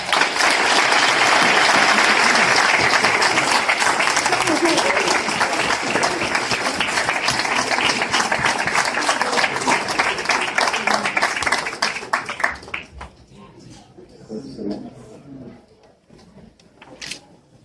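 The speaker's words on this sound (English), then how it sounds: "Another round of applause." Sustained audience applause at an award ceremony for a school district advocate, loud, dense clapping for about twelve seconds before it abruptly thins out into scattered claps and quiet room noise.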